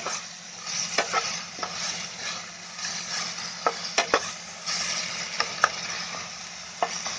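Crabs and masala fry in hot oil, a dense continuous crackling sizzle broken by sharp spoon clicks and stirring scrapes at irregular moments, close and without speech.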